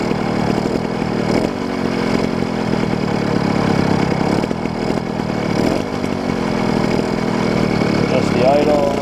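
A new, badly scratched 80cc motor idles with a steady, fairly quiet mid-pitched drone and slight rhythmic pulsing, close by and constant throughout, while people talk over it.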